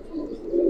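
A pigeon coos once, a soft low throaty note that swells toward the end, close by and alone, among fancy pigeons such as Giribaz and racers kept together.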